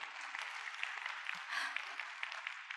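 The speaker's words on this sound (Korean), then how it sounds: "다시 한번 박수 부탁드리겠습니다" A conference audience applauds a presenter after a keynote talk, with steady, moderately distant clapping that holds evenly for a few seconds and swells briefly in the middle.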